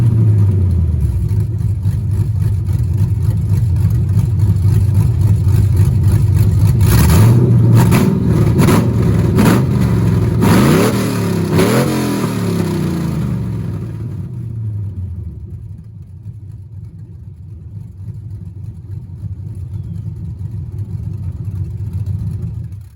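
A cam-swapped 6.0 V8 truck with 1 3/4 long-tube headers, an X-pipe crossover and dual 3-inch exhaust rumbles at idle, then revs hard several times in quick blips before settling back to a lower, loud idle burble.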